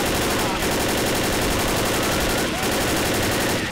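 Shotgun fire in the zombie shooter Left 4 Dead, with sharp blasts at intervals over a dense, loud, continuous wall of gunfire and game noise.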